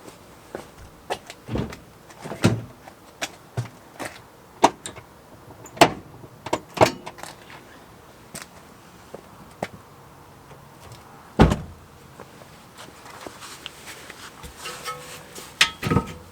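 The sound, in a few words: releasing handbrake on Honda Fit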